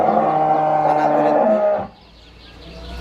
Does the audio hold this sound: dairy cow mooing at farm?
yes